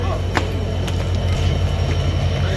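The Rangpur Express 771 intercity train from Dhaka passes straight through Moladuli station without stopping, a loud, steady rumble of wheels and carriages with faint clicks and a light squeal.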